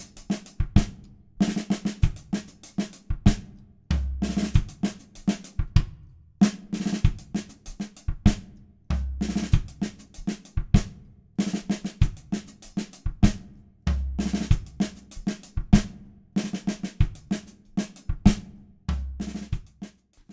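A drum kit plays a steady groove with a plate reverb added that warms it and draws it together: a punchy kick, snare hits and cymbal accents repeat in a regular pattern for about twenty seconds, with no voices.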